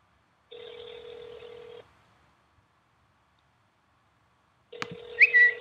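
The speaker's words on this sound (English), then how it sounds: "I'm going to call Twelephone from a telephone number using the regular phone in the iPhone." An iPhone on speakerphone places a call: a steady ringback tone sounds for about a second and a half, silence follows, then the tone returns with a brief electronic beep over it.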